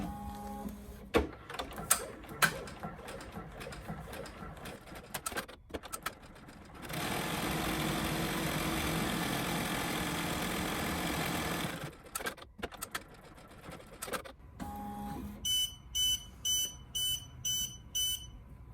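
An embroidery machine stitches a felt gift card holder. A clattering run of stitching gives way to a steady loud whirring drone, then a short burst of stitching, and it ends with a series of evenly spaced electronic beeps.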